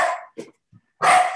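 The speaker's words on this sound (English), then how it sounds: "And that's my dog." A dog barks loudly at a pizza delivery at home, one sharp bark, a short pause with a quieter yip, then another strong bark, close and with no voices.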